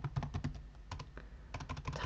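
Close computer keyboard keys pressed during accounting software entry, including the F2 key, a quiet run of quick clicky taps in short bursts with a brief pause in the middle.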